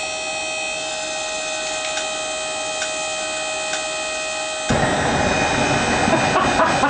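A homemade engine built to resemble a Super Sledge starts up abruptly after a stretch of steady whine and faint ticks, then settles into a loud, rough idle close to the listener.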